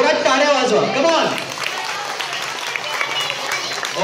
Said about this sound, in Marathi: तर ईश्वरीसाठी प्रथम जोरात टाळ्या वाजवा.